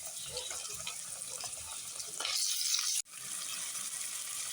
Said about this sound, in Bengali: তো পেস্ট তেল দিয়েছি পেস্টটা ভাজা হয়ে যাচ্ছে সাথে দিয়ে দিচ্ছে আদা রসুনের পেস্ট